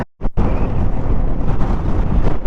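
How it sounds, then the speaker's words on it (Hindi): Strong gusty wind in the high mountains of Zanskar on a bike trip buffets the microphone, a loud roaring rush that cuts out briefly near the start and then blows continuously. "तो ज़ांस्कर में इतनी तेज़ हवा चलती है"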